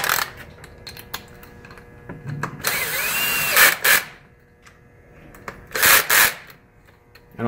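An Allen bolt being tightened with a socket tool on crash protection for a 2018 BMW S1000RR motorcycle, heard as a few short bursts of whirring and clicking ratchet-like noise separated by quieter gaps.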